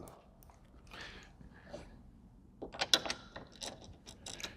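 Small metallic clicks and ratcheting taps come from a Torx bolt being started by hand on an Aston Martin DB9 door mirror, faint and close, in irregular bursts that grow busier toward the end.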